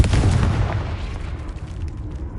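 A Confringo blast spell explodes in Hogwarts Legacy, a loud booming burst at the start that rumbles and decays over two seconds.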